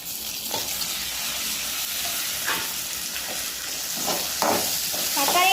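Tomatoes frying and being stirred into chicken gravy in a pan, a steady sizzle with repeated spoon scrapes throughout, close and fairly loud.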